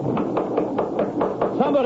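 Repeated knocking on a door, about eight evenly spaced raps close by at a steady rhythm, with a voice starting up near the end.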